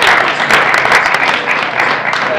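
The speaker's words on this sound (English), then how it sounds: "let's give a round of applause." Loud, close applause from a room full of people, a dense continuous patter of clapping lasting a couple of seconds.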